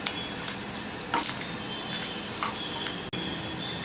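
Cumin crackles and sizzles in hot oil, a steady close frying hiss with small pops and a light clink of a utensil.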